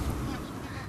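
Geese honking in a dense, continuous blur of overlapping calls, loud and brief, likely a large wintering flock in the Germany–Netherlands border farmland, with a voice faintly over it.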